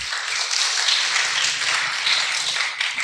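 Steady, dense applause from a gathered congregation, loud and sustained without a break, with no talking over it.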